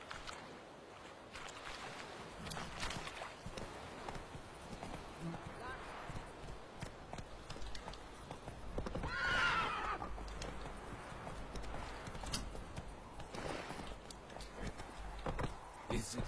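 Horse galloping in The Witcher 3 game, with a steady run of hoofbeats under game music and ambience, a whinny rising near the middle, and voices talking over it.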